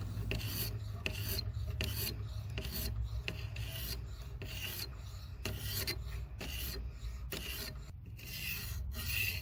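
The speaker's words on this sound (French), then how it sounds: "Un peu d'aiguisage à la pierre." A forged spear point, modelled on an Indigenous artifact, being sharpened on a whetstone: steady, continuous rasping strokes of metal against stone, close and fairly loud, repeating without pause.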